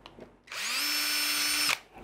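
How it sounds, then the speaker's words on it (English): A power drill drills holes in 3D-printed turbofan engine parts, spinning up and whining steadily at high pitch for about a second, then stopping abruptly; close and loud against a quiet background. "Just drill these holes out."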